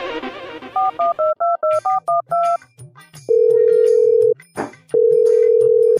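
A telephone number is dialed as a quick run of keypad tones, followed by two long, loud steady call tones separated by a brief gap, with faint background sound and no talk.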